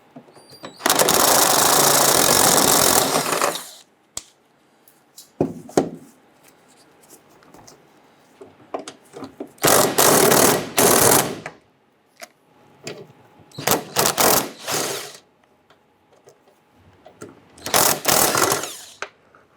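Ratchet with a 13mm socket clicking rapidly as it loosens fuel tank strap nuts under a 1997-2006 Jeep Wrangler, close and loud in several separate bursts with quiet pauses between them.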